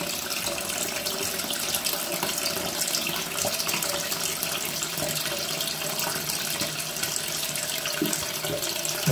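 Water runs in a steady, unbroken rush into an Ideal Standard toilet cistern with a leaking-fill fault, staying constant and fairly loud throughout with no voices.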